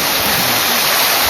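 Water gushes out in a strong, steady rush right after a village water outlet is opened, loud and close with no talking.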